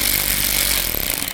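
A power tool whirs steadily and loudly at close range throughout, driving bolts while fitting a fuel pressure regulator on a Beta motorcycle.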